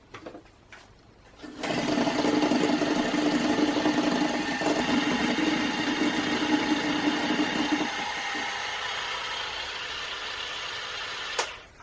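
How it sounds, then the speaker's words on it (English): Electric mixer whirring steadily at close range as it creams gluten-free, lactose-free sugar cookie dough until light and fluffy, a loud continuous motor drone starting after a brief clatter and ending with a click. "And now mix together until light and fluffy."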